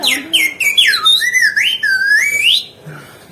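A vendor's high, sliding whistle warbles up and down for several seconds in Argentina, loud and close, with no talking over it.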